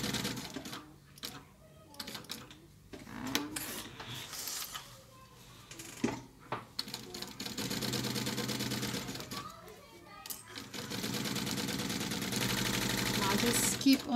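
Sewing machine stitching around the edge of a cloth diaper cover with a 1 cm seam allowance, its rapid mechanical clatter running in bursts with short pauses, growing steadier and louder toward the end, with some talking mixed in.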